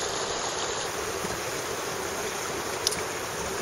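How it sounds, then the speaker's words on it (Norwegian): A mountain stream flows in the Norwegian uplands, a steady broadband rush of moving water, fairly close and constant, with one faint tick partway through and no talking. "Dere hører bekken her, ikke sant?"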